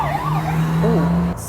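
Several emergency vehicle sirens wail and sweep past loudly on a street in Kurri Kurri over a steady engine drone, cutting off abruptly near the end.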